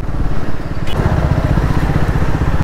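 A Triumph Scrambler 400 X motorcycle ridden on an open road near an air force station, its engine note steady and loud with a throbbing low rumble, wind roar rising briefly partway through.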